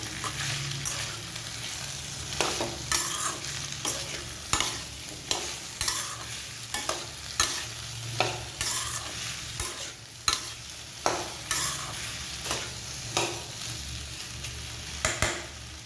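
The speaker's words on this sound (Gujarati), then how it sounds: "હવે આપણે તેની અંદર મીઠું એડ કરીશું અને આને મિક્સ કરી લઈશું." Okra and potato sabzi with salt being stirred in a pan over a gentle sizzle. Rhythmic spatula scrapes and taps repeat every second or so, close and moderately loud.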